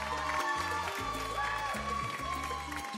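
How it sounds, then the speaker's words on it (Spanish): Strong audience applause and cheering for Giovanna Valcárcel, a celebrity contestant on a TV cooking show, filling the room steadily over pulsing stage music. "fuerte aplauso, señores, para la gran Giovanna Valcárcel."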